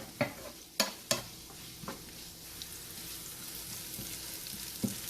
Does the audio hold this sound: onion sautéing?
yes